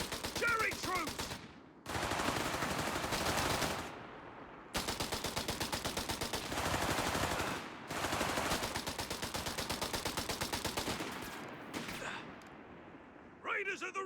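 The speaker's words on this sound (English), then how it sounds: "Taking small arms fire!" Sustained bursts of machine gun and small arms fire from a World War II video game battle with British special service troops, loud and rapid, broken by short pauses, with brief voices at the edges.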